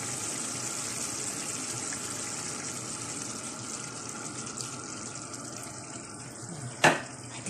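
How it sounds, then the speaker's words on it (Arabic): Water running into a shakshuka pan with minced meat, a steady close gushing pour that continues throughout, ending with a brief knock near the end, no talking. "لازم طيب مليح درك نزيد لها شويه ماء"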